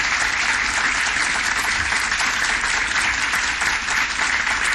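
Loud, dense applause fills a city council meeting as a coach is called up to be honored, a continuous wash of many hands clapping with no pause.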